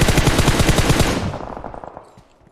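Rapid automatic gunfire in the PUBG Mobile battle royale game, a dense loud burst of machine-gun shots for about a second that thins into scattered, fading shots with no talk over it.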